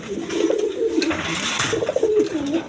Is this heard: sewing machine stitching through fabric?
no